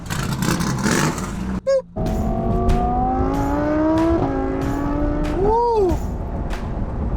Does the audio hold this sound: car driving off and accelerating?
yes